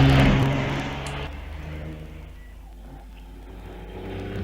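A Datsun car braking and turning through a hairpin on the Wiscombe Park hillclimb, its engine loud and close at first, then easing to a lower steady drone that fades slightly before rising again.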